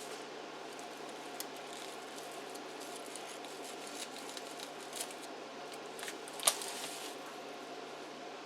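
Faint, quiet snips of scissors trimming, small scattered cuts over a soft background hiss, with one sharper snip near the end.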